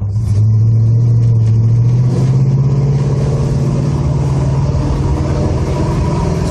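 A 1979 Chevy El Camino with a turbo 350 transmission revs hard at full throttle, wide open, a loud, steady engine roar whose pitch climbs slightly as it pulls, close and continuous throughout.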